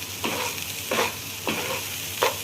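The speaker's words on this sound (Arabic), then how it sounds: "ونقلب برضه" Spoon scraping through koshari in a pan as salt and cumin are stirred in, four rhythmic scraping strokes over a steady background sizzle, close and moderately loud with no talking.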